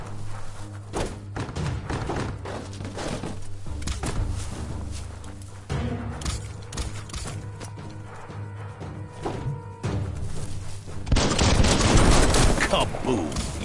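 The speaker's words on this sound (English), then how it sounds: "Shoot it and watch it blow." Game gunfire and a blast in Biomutant: a run of sharp shots and heavy thumps, with a louder burst of explosive noise near the end, over game sound and occasional voice.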